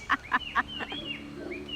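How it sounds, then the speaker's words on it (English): Howler monkey calling in a Costa Rican rainforest near Serapiquí: three sharp, loud bursts in quick succession, then a longer wavering, drawn-out call trailing off, heard fairly close with no talking. "It's actually a howler monkey"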